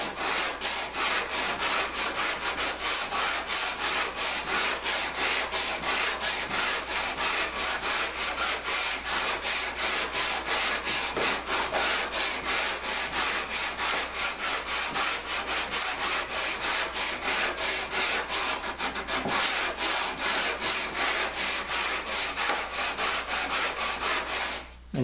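A wooden piece is hand-sanded with a sanding block and sandpaper of 150 and 80 grit. The strokes are steady, rhythmic and close, a continuous scratchy rubbing that lasts the whole time with no talk.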